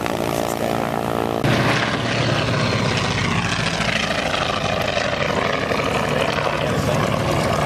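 A propeller plane drones overhead, its buzzing engine steady and fairly loud, shifting in pitch as it passes with no voices.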